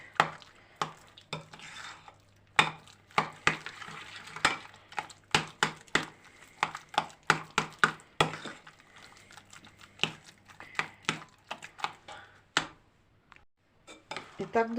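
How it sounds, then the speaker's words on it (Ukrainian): Choux pastry dough for eclairs being beaten and kneaded in a bowl, a long run of sharp, irregular close knocks and slaps of a utensil against the bowl, mostly without talk. "І починаємо знову колотити, місити."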